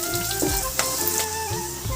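Taro sizzles and fries in an oily pan with onion, garlic and ginger, a steady close crackle broken by a few soft stirring scrapes.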